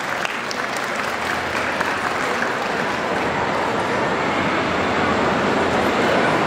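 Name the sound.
audience applause at a pet expo breed demonstration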